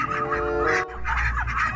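Loud nasal honking quacks from a duck close by, a few harsh calls in quick succession with a brief gap between them.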